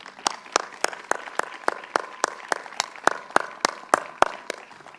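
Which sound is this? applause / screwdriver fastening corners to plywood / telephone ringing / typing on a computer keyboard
applause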